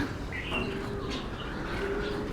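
Soft pigeon calls and low cooing rise over a breezy, windy winter outdoor background, faint and intermittent, with no talking.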